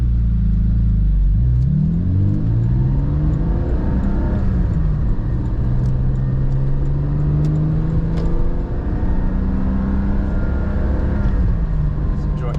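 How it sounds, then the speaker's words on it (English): Engine of a manual Porsche GT4 revving up and dropping through gear changes, a rising and falling exhaust note inside the cabin with people talking over it. "Just going through the gears and sweet."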